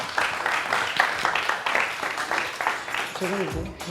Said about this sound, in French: On applaudit Diane